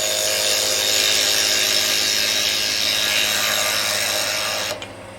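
A woodturning lathe tool trims a sanding disk holder on the spinning lathe, giving a steady, close, scraping and hissing cut that runs for several seconds and stops abruptly near the end.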